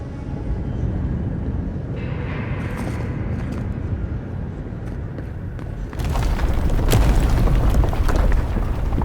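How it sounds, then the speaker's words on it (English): A large explosion in the video game Avowed, a loud rumbling boom that swells in near the end above a continuous low roar. "That was a damn big explosion, wasn't it?"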